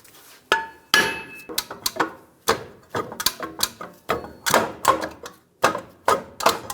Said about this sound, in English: just using a hammer and tapping in these locations, be careful not to hit the studs